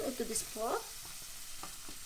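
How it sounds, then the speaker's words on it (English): Marinated beef goes into a hot pot for beef caldereta, giving a steady close sizzle and frying hiss with some stirring clatter, while a voice talks over it. "what we're going to do now is put our meat, our marinated meat. We're gonna add into this pot"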